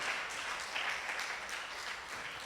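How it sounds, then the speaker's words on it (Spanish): A church congregation claps loudly for the Lord during a sermon, a brief steady burst of many hands at moderate distance with no speaking over it. "Dale ese aplauso fuerte al Señor."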